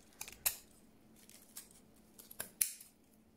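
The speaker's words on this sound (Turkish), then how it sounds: "El ütüsü yaptıktan sonra ucunu şöyle keseceğim." Scissors snip the end off a handmade tassel, a few sharp cuts spread out and close by with quiet pauses between.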